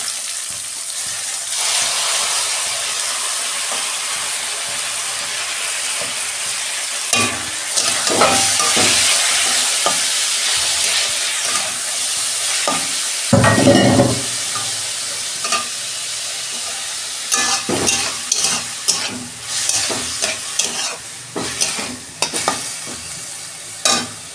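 Squash sizzles and hisses steadily while frying in a pan, with intermittent stirring scrapes and clatter growing busier toward the end.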